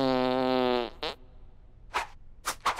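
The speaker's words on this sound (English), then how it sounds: "we fart too" A cartoon fart sounds as a long, loud buzzing tone that slides downward, followed by a few short sputtering puffs of varying loudness.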